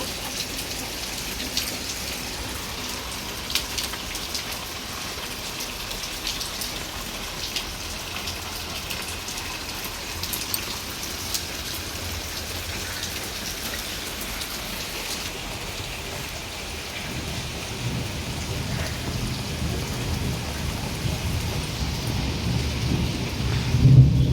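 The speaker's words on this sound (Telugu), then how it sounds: "కాడి నుంచి వర్షం అయితే చాలా గట్టిగా అయితే కురుస్తుందండి" Heavy rain pours steadily in a dense, continuous hiss, with low rumbles of thunder swelling toward the end.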